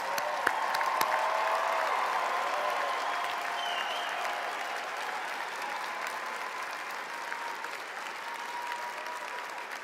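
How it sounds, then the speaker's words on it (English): Applause for a graduating class of online graduate programs at a commencement ceremony, a broad wash of steady clapping from a large audience that swells early and then holds at a moderate, even level throughout. "Let's give them a round of applause."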